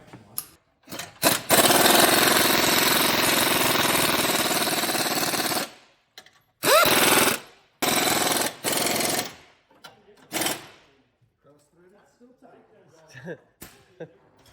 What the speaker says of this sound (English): where's my air gun?